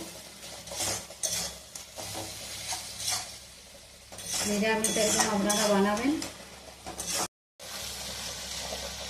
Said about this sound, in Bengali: মশলাটা আমার ভাজা ভাজা হয়ে এসছে